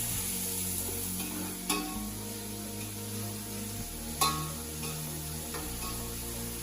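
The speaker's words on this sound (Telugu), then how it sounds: "బ్రౌన్ కలర్ వచ్చే వరకు వేయించుకోవాలి." Onions and other chicken biryani ingredients fry in a pan with salt until browned, giving a steady soft sizzle with two sharp clinks of a spoon stirring, and a person talks quietly in the background.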